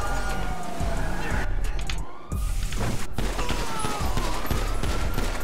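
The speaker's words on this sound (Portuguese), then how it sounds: "aqui tá uma troca de tiro grande" Rapid volleys of GTA RP gunfire crackle back and forth while police sirens wail steadily underneath.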